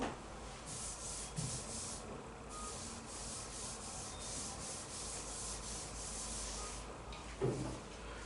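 Steady dry rubbing of a duster wiping writing off a classroom board, a continuous scrubbing hiss with rhythmic strokes, close and moderately quiet, with a brief knock near the end.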